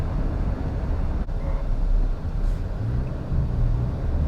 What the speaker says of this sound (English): I do hear a little bit of wind noise around 45 miles an hour here